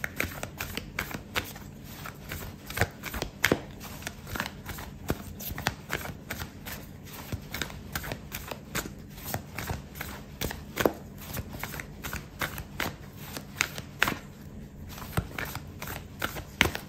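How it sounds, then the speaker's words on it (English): Tarot and oracle cards are shuffled continuously by hand, a dense patter of soft crisp clicks and flutters, close and steady throughout with no voices. "I'm gonna pull out an oracle card for you"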